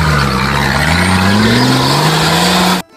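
Toy off-road car revving close by, a steady loud motor whine with rising and falling pitch that cuts off abruptly near the end.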